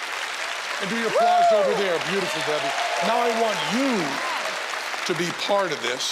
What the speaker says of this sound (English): Do the applause over here.